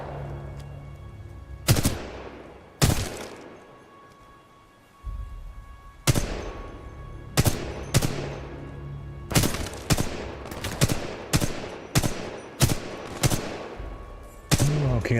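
Gunfire in Titanfall 2: a dozen or so sharp, loud single shots with ringing tails, spaced irregularly at first and then coming in a steadier rhythm, with no talk.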